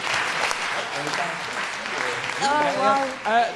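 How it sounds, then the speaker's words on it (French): Audience applause for the comedy duo Les Pic-Bois at a live show at Le Transistor, a broad wash of clapping with whistles and cheering voices rising toward the end. "Donner une super belle main d'applaudissement au Pic-Bois"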